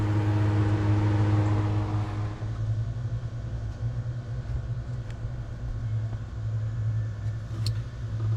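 An engine with its injectors unplugged cranks over steadily for many revolutions, a continuous close mechanical rumble with a brief louder start at the beginning.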